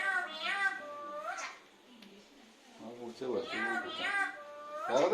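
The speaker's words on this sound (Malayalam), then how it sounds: "ദേ അവിടെ പൂച്ച" Several high, drawn-out meows from a cat nearby, with someone talking in between.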